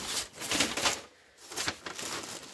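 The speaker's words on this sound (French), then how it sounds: "ils sont tous dans du papier bulle comme ceci" Crinkly bubble wrap rustling and crackling in bursts, close by, with a brief pause in the middle before the handling resumes.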